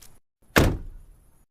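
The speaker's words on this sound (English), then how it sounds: "I heard their car door open and close." A single car door heard from inside a house, one solid thunk with a short ringing tail after a brief rustle, moderately loud and with no voices.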